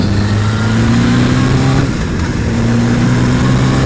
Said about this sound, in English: someone's reversing out up there